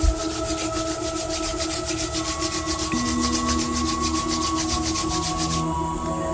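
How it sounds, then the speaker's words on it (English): Palms rubbed briskly together make a steady, close, continuous rasping friction over soft sustained background tones, with no talking. "Rub your hands together. You want to create friction between your palms"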